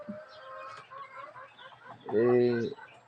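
Farm chickens being fed, scattered soft clucks giving way to one loud, close, drawn-out cackle near the end, with faint voices in the background.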